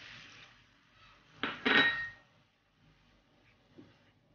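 A spoon scrapes and clinks against a pan while roasted grated coconut and milk are mixed together over a medium flame, one louder burst of stirring amid quieter, sporadic scraping.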